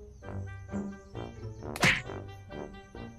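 A sharp slap lands on someone's head in the middle of a game, one crisp loud smack heard up close while people keep chattering around it.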